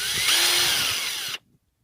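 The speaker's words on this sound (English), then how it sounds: "Getting back to the drill real quick, it's variable speed." A Ryobi One+ cordless drill whirs loudly and close for just over a second, its high motor whine steady, then it cuts off abruptly into silence.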